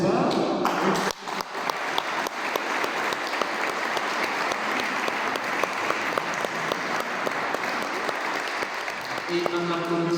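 A church congregation at a Father's Day Mass with first communions applauds for the fathers, a dense, steady clapping that fills the room for about ten seconds with only brief voices at the edges.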